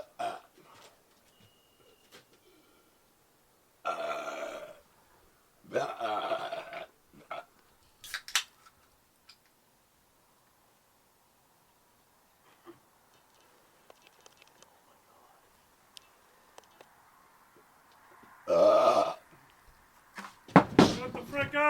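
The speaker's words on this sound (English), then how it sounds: "you stand up in the burps. They start to come out a little stronger." Loud burps after drinking Bubly sparkling water come in a few separate bursts spread across the stretch, with quiet gaps between and people talking around them.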